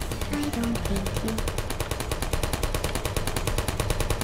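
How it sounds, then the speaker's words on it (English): Automatic turret fire from the Portal video game rattles in a continuous rapid burst, steady and loud throughout with no pauses. "Ah, they're still shooting me."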